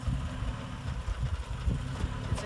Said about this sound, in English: Here's idling, no gas at all.